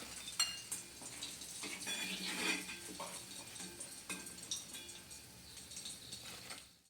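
Chicken pieces frying in hot oil in a wok for chili chicken, a steady close sizzle with scattered utensil scrapes and clinks, a quiet voice faintly underneath.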